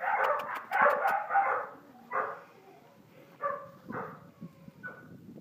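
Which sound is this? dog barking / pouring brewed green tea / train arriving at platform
dog barking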